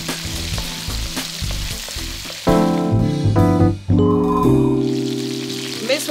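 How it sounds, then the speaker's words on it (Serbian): Chicken pieces sizzle and crackle loudly in a hot wok, a steady close frying hiss that swells sharply partway through as the meat is stirred, with no talk over it. "Ostavit ćemo ga da se jedno vrijeme prži, a onda ćemo mu dodati kinesko povrće."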